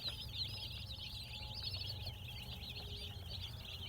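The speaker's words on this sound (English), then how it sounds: "sure do like cute little chicks." Young chicks on an organic farm peep steadily in a high, chattering chorus over a low background hum, continuous and moderately near for a few seconds.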